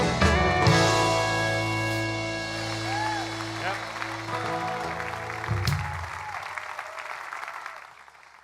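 An audience at a Friday night live church music event applauds warmly and steadily under lingering sustained guitar and keyboard tones. The clapping thins and fades toward the end.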